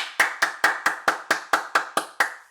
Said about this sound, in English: Let's give a clap to Nicole.